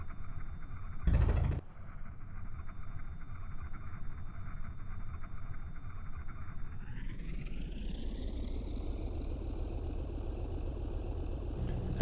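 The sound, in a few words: aircraft engine idling in IL-2 Sturmovik 1946 video game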